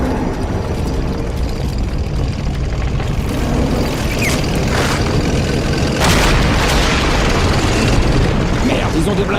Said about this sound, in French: Canon anti-char prêt à tirer.